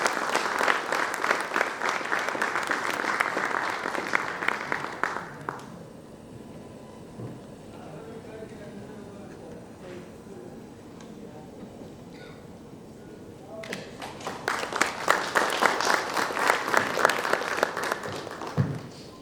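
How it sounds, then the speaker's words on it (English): A crowd claps loudly for several seconds, fades to a quieter murmur with scattered sounds, then breaks into another strong round of applause. "once again a round of applause from everyone"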